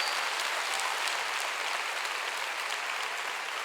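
Loud, steady applause from a church congregation, a dense continuous patter of many hands clapping that holds at full strength for several seconds with no voices over it.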